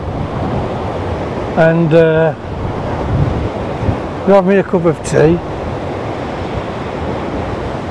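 Big waves crash at Porthcawl beneath strong wind that buffets the microphone, a loud continuous roar of surf and gusts. Someone speaks briefly over it twice.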